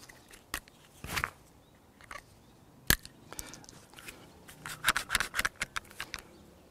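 A sealant cartridge nozzle being cut with a utility knife, a few sharp close snips and clicks spread out, then a quick cluster of small cutting crackles near the end, quiet room otherwise.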